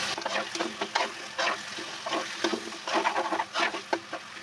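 Hilsa fish pieces dropped into hot spiced oil for a mashkalai dal, giving a close, crackling sizzle broken by uneven bursts of spatter and stirring scrapes.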